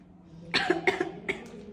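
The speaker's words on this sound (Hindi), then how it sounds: "तुम्हारी खांसी ठीक नहीं होती बस" A short run of three or four harsh coughs in quick succession, close and fairly loud, after a quiet start.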